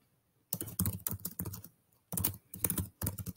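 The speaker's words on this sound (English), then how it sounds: "I'm going to type" Chromebook computer keyboard being typed on in bursts of close, crisp key clicks, with a short pause near the start and another in the middle, and no talking.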